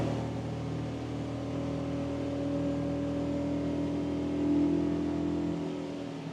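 A Centurion Ri245 wakeboard boat loaded with over 5,000 pounds of ballast runs at full throttle, its engine drone steady and rising slightly in pitch as it pulls, heard continuously and fairly loud with no talk.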